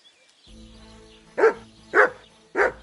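The dog Mutt in the medieval video game Kingdom Come Deliverance 2 gives three sharp, fairly close barks spaced about half a second apart, after a quiet stretch with faint background sound.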